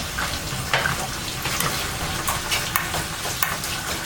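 Ham frying in a pan for spaghetti carbonara gives a steady, close sizzle, broken by light clicks and scrapes as it is stirred.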